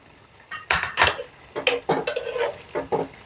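Ginger curry (inji curry) stirred in a pot, a spoon scraping and clinking against the metal in a few loud bursts, followed by softer rhythmic scraping strokes, close by with no talk.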